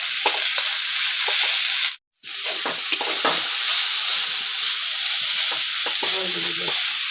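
A steady, close sizzle of vegetables lightly frying in a pan, broken by a brief gap near the two-second mark, with occasional soft stirring scrapes throughout.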